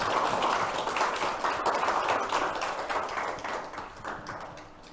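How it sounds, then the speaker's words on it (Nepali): A church congregation claps together in thanks to God, a broad, dense wash of applause that fills the room and slowly fades toward the end, with no voices over it. "हामी परमेश्वरलाई हामी ताली बजाएर हामी धन्यवाद दिनेछौँ"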